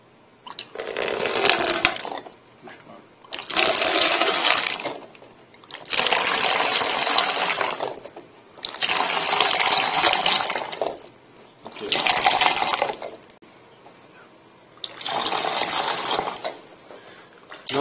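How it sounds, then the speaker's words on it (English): Water is pumped in repeated gushing bursts into a pot during a leak test, five loud surges of roughly two seconds each separated by brief quieter pauses. "we'll pump it to see how it performs"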